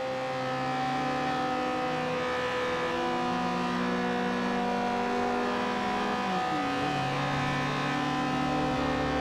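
Steady car engine drone while cruising along a motorway in Forza, a sustained tonal hum with one brief pitch dip and recovery partway through, constant and fairly loud with no talking.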